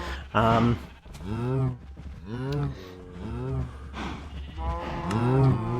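Cows in the video game Minecraft moo again and again, with several long, deep calls that overlap and follow one another closely. The mooing is loud and close.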